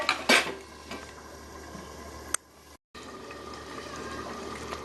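A metal lid clatters onto a cooking pot of Bengali-style potato, eggplant and shrimp curry: one sharp clang near the start and a second clink a couple of seconds later, over a low simmering hiss.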